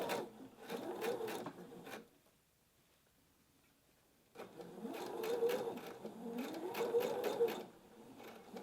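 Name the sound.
sewing machine stitching netting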